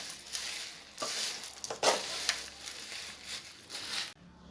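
Two tablespoons of poppy seeds frying in a hot pan for homemade sambar powder give a soft, steady sizzle with scraping stir strokes, close and alone, fading out near the end.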